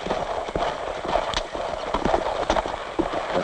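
A horse's hooves clip-clop in a quick, steady rhythm, with hollow knocking beats close by over a continuous outdoor rumble.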